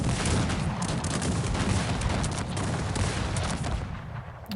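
Musket volleys crackle from firing squads in the strategy game Cossacks 3, a dense, continuous rattle of overlapping shots close and loud for the whole stretch, easing slightly at the end.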